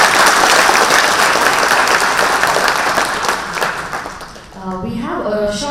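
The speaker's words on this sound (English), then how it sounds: "a big round of applause" An audience at a formal ceremony honouring a consul bursts into loud sustained applause that thins out toward the end, with a voice emerging over the fading claps.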